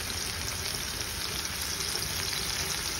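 Snakehead fish pieces, flipped and nearly done, fry in oil in a wok, producing a soft, even sizzling hiss with faint bubbling, steady and fairly quiet, no voices.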